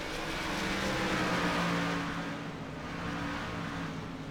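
High-pitched stock car engines in an iRacing simulator Winston Cup race whine and drone continuously, a steady buzzing roar that swells slightly then eases, no talking.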